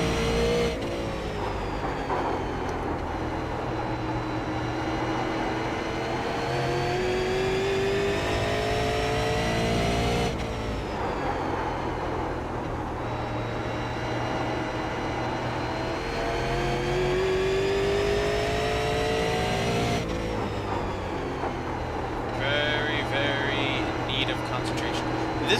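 A Super Late Model race car at Thompson during a race, heard from on board: a loud, continuous engine drone with its pitch rising and falling through repeated acceleration sweeps, with brief dips between laps.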